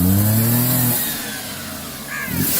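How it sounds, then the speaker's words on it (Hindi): A car engine revs hard as the accelerator is pressed, then its pitch falls away and it settles to a lower drone before building again near the end. "अरे एक्सीलेटर दीजिए ना।"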